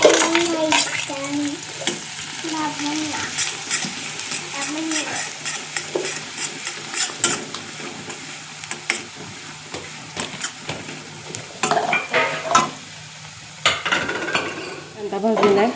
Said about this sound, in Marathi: कांदा भाजलेला आहे.